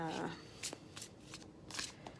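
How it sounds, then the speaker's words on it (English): A deck of Gilded Tarot cards being shuffled by hand, several quick riffling bursts close up and soft, with quiet room noise between them. "just going to shuffle for a little bit longer"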